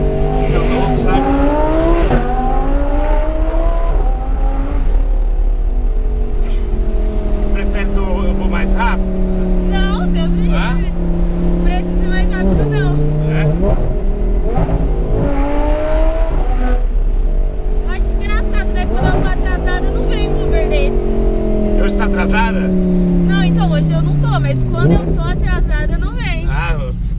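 An Audi R8 sports car driven on a ride-hail trip in Londrina, Brazil, revs up and down in sweeping surges, loud and close beneath ongoing conversation inside the cabin.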